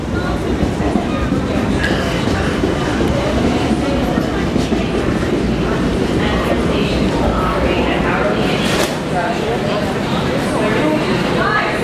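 A crowded Long Island Rail Road Ronkonkoma branch train on the Main Line rumbles steadily and loudly past at close range, with rail noise filling the whole stretch and a voice talking over it.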